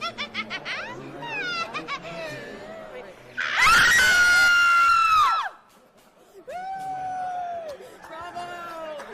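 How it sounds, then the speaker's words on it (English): A woman lets out one long, loud, sustained scream in a horror-themed setting, set between bursts of crowd laughter and cheering, with further shrieky vocalizing after it. "here's a scream"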